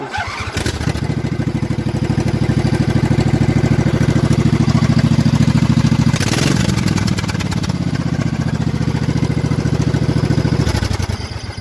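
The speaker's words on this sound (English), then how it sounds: "I know everybody's anxious to hear a startup on these things. It's pretty loud." A Craftsman riding mower engine cranks and catches, then runs loud and rough with a fast popping exhaust rumble, dipping briefly midway before continuing close up until it cuts off.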